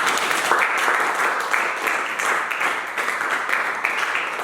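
A church congregation applauds at a worship service, with dense, steady clapping from many hands filling the room for several seconds.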